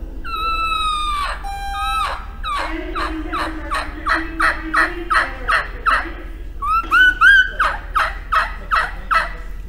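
A mouth call imitates a turkey: a few high yelps, then a rapid rattling gobble of quick pulsing notes, repeated twice, close and loud.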